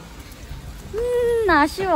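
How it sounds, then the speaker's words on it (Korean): Rain falling outdoors on a rainy day in Budapest, Hungary, a soft steady hiss in the background while a person speaks briefly over it. "비가 오네요."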